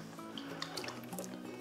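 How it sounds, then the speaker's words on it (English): Boiled water poured into a container to rinse out brewing yeast for a home-brew starter, making a faint close trickle and a few small drips and splashes. "So I'll quickly rinse the yeast out with that"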